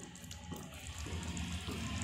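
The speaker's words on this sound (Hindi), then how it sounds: "अब हम पानी ऐड करेंगे। पानी हम बहुत कम डालेंगे।" Water is poured into a pan of potato and capsicum poppy-seed gravy, a faint continuous splashing trickle over steady kitchen background noise.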